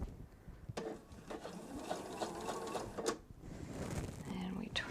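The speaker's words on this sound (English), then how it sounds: "Alright, and then we turn and we stitch off the fabric." A sewing machine stitches off the edge of fabric in quiet, uneven bursts of mechanical whirring and clicking, faint and close, with soft handling noises between runs.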